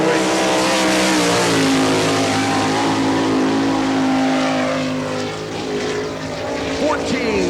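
Sprint car number 55 on a qualifying lap at a dirt speedway, a loud sustained engine roar with shifting pitch as it passes, mixed with crowd and PA ambience.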